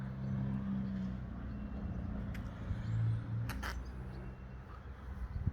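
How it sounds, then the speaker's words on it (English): A car rolls over a level crossing on a preserved heritage railway, a low engine rumble passing at moderate distance with a couple of brief knocks as it crosses. "There's the level crossing that car's just passing through there."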